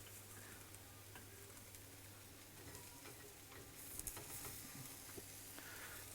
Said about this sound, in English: We're just going to quickly flip the hash browns again to prevent them from burning.